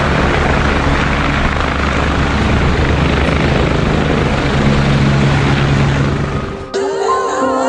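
Military helicopters fly overhead during flood and landslide rescue work in a mountain region, their loud rotor thrum steady and close for several seconds before cutting off abruptly near the end.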